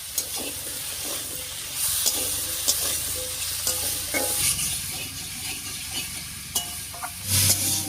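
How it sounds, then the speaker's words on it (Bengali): Pumpkin pieces frying in a pan with green chillies, salt and turmeric, with repeated scraping stir strokes over a steady sizzle, heard close up and without any talk. "কুমড়োটা দিয়ে একটু নাড়িয়ে নিয়েছি"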